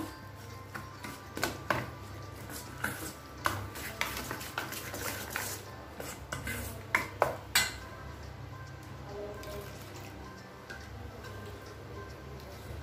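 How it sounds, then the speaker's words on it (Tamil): Rava batter being stirred with water in a bowl, a spoon clinking and scraping against the sides in repeated taps and swishes, close and fairly quiet over a steady low background hum. "கொஞ்சம் கொஞ்சமா தண்ணி ஊத்தி mix பண்ணிரலாம்."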